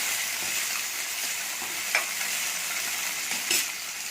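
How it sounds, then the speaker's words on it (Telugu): Green beans frying in oil with curry leaves make a steady, dense sizzling hiss, close up and even, with a couple of faint utensil taps and no talking. "బీన్స్ వేసి బీన్స్ బాగా ఫ్రై అవ్వాలి"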